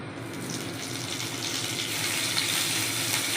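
Garlic and curry leaves sizzle in hot oil, a steady, close hiss of frying that builds slightly louder toward the end, with no talking over it.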